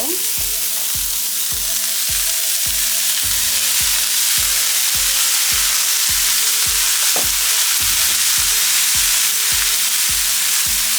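Chopped kale drops into a pan of onions and fries with a loud, steady sizzle, punctuated by repeated rhythmic scraping and stirring knocks of a utensil against the pan, close and continuous throughout.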